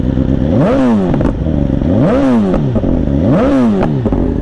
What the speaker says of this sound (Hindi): आप सुनाते हैं आपको इनलाइन 4 सिलेंडर की आवाज़।